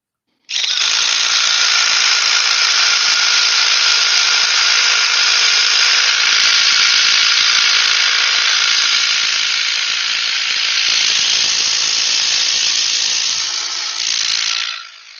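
Ridgid or DeWalt subcompact power tool driving a half-inch bolt, a loud, steady high-pitched motor whine that starts abruptly, holds for about fourteen seconds with slight variation, then winds down.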